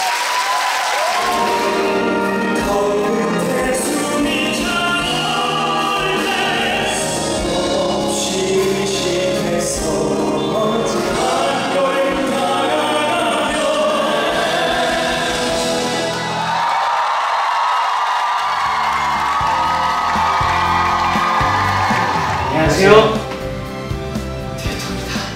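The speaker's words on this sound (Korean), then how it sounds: "끝까지 많은 박수 그리고 사랑 부탁드리겠습니다" A concert audience at a 2018 concert applauds and cheers in a long, steady wash of clapping mixed with music, then it thins out near the end.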